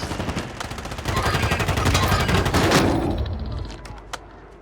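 Rapid automatic gunfire in an online shooter game crackles in close, dense bursts, swells, then thins to a few scattered shots as it fades.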